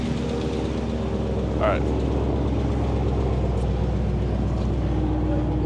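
A Jeep SRT8 engine with a Whipple supercharger idles with a steady, loud, throbbing hum, its uneven pulse hinting at a misfire on cylinder 3 with the flex fuel kit connected; someone speaks briefly over it.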